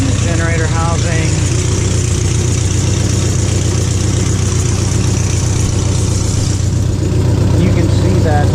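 A 1964 Fiat 600D with a 767cc engine idles steadily nearby, a loud even putter throughout, with talk over it.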